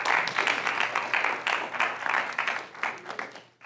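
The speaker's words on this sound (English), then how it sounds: "Give him a round of applause." An audience at a summer internship career session claps for a participant, a medium-sized burst of applause that swells and dips, then tapers off to quiet.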